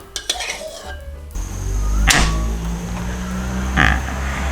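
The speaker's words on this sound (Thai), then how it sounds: "เราก็จะมาเอาหมูสามชั้นลงกระทะเนาะ" Pan and utensil clatter opens the clip, then a sustained sizzle rises as pork belly hits the hot frying pan, with a few metallic clinks over the frying.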